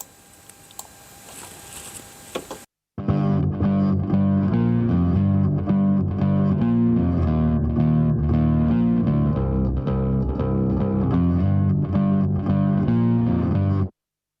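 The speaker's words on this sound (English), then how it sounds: "the best way to kind of get attack into a bass part is a bass guitar, and adding some distortion" A bass guitar with added distortion plays a steady, driving part in a studio mix, gritty and loud, its notes pulsing continuously after a short quiet lead-in.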